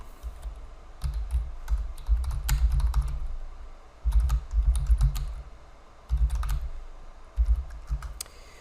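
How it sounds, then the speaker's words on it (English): Typing on a computer keyboard during an online search, close and clear, in quick bursts of clacking keystrokes separated by short pauses. "I'll type it in."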